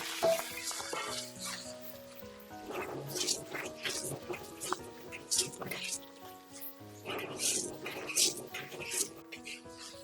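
Greens being stir-fried in a wok, with bursts of sizzle and scraping under a home kitchen's background music and some voices.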